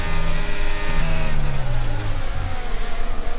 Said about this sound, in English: you can hear that accelerator in my car